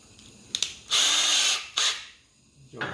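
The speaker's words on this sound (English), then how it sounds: "Use a 1/8 drill bit." A power drill with a 1/8 inch bit whirs in two short bursts drilling a pilot hole, a longer run then a brief one, each spinning up sharply and cutting off, with quiet pauses between.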